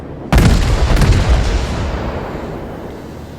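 Warship main guns in World of Warships fire a salvo, a sudden loud boom with a couple of rapid blasts that roll into a long, fading rumble.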